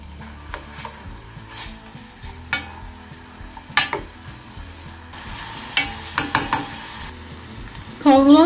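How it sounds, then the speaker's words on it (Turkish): Chopped onions sauté in oil in a pan, a soft continuous sizzle punctuated by sharp clinks and scrapes of a utensil against the pan, growing busier toward the end. "Ocağımızın altını açalım ve soğanlarımızın hafif rengi dönene kadar kavuralım."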